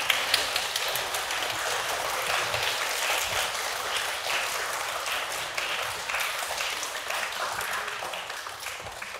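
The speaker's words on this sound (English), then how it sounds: "give your teachers and members of staff a round of applause" A primary school prizegiving audience applauds its teachers and staff with sustained, dense clapping from many hands that fills the hall evenly from start to finish.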